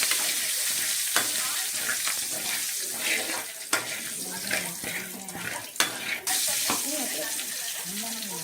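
Curry leaves dropped into hot oil with mustard seeds, fenugreek and asafoetida for an oil brinjal kuzhambu, giving a loud sputtering sizzle with crackles and sharp pops, a voice speaking briefly underneath.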